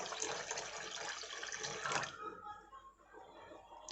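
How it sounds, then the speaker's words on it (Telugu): Water pours into milk in a home kitchen, a bright splashing stream for about two seconds that stops abruptly, leaving quiet room sound. "కొన్ని నీళ్ళు పోసుకోవాలి."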